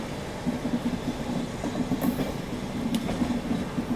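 The 12559 Shiv Ganga Superfast Express rolls fast between Banaras and New Delhi, heard from inside a 2AC coach as a steady rumble with rhythmic clickety-clack of wheels over rail joints and a couple of brief high squeals.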